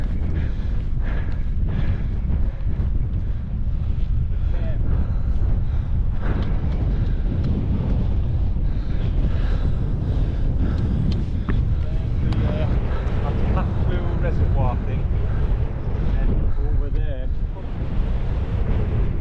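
Strong wind buffets the microphone on an exposed hilltop beside a summit cairn, a loud continuous roar with gusty swells throughout, and people talk faintly underneath.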